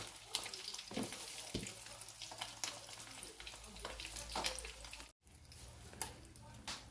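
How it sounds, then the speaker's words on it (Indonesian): Tofu martabak wrapped in lumpia skins frying in oil, a busy close crackle and sizzle with scattered pops, briefly cut off near the end before resuming. "jadi teman-teman kalau gorengnya pun jangan terlalu panas ya minyaknya ya"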